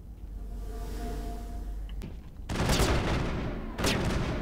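Gunshots in the game Mass Effect, a humming backdrop broken by a single sharp crack and then two bursts of rapid gunfire, the first lasting over a second and the second starting near the end, no voices.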